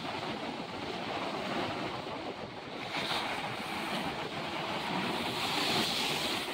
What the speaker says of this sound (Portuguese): E a onda vem.